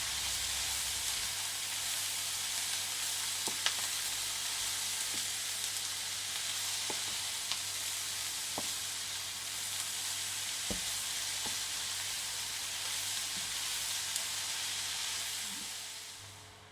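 Diced leftover ham sizzles steadily in a pan as it is mixed, a constant bright frying hiss with sporadic soft knocks and scrapes of a spoon, fading slightly at the end.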